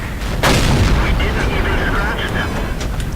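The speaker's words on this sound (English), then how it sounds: "Trying to get some shots at the AT7." A tank cannon fires in the World of Tanks video game, a single loud boom with a sharp crack early on that rolls into a rumbling tail. Someone talks over it.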